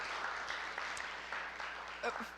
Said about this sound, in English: let's give the poetry community applause